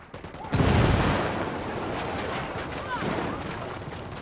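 A frag grenade explodes in Ghost Recon Wildlands with a sudden loud, deep boom that rolls off into a long rumbling tail, followed by scattered distant gunfire.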